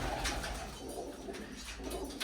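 Pigeons coo softly and repeatedly in a steady outdoor background, with low murmuring calls layered over ambient noise and no voices.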